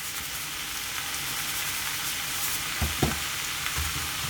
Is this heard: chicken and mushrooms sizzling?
yes